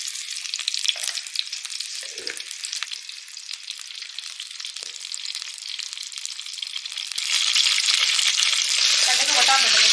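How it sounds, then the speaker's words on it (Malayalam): Mustard seeds sizzling in hot oil in a pan for a Kottayam beef dry fry, a loud close hissing crackle with rapid popping that swells louder near the end, with a brief voice underneath. "എണ്ണ ഇവിടെ നമുക്കിനി കടുക് ഇട്ട് കൊടുക്കാം."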